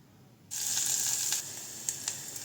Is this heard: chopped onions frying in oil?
yes